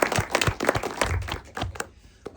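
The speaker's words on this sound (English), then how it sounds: "So a round of applause for her." A small audience claps for a film director after a screening, a short burst of scattered, uneven hand claps that thins out toward the end.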